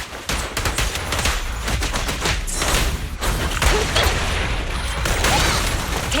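Gunfire in the Zenless Zone Zero video game: dense bursts of rapid shots and heavy thuds crackle loudly in quick succession, layered with mechanical clatter and booming impacts throughout.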